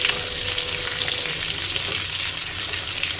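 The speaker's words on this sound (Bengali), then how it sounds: "ফার্স্টে এই বিটটা দিয়ে দেব, আলু একটু নাড়াচাড়া করে নেব।" Beetroot and potatoes sizzle steadily in a hot pan while being stirred, a continuous close frying hiss with soft scraping underneath and no voices.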